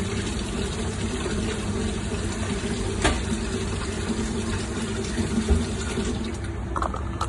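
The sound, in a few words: rinsing bitter gourd under running water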